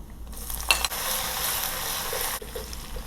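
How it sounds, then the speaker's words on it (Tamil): Cashews and crushed ginger sauté in a pan for ven pongal tempering, a bright continuous sizzle with a scrape near the start and a brief break, close with no talking. "இஞ்சி சேர்த்து நல்லா வதக்கிக்கோங்க"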